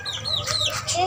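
Gamefowl chickens cluck and chirp close by at feeding time, several short calls overlapping with a person talking over them.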